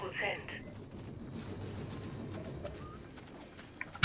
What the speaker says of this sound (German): Schießen die denn bitte?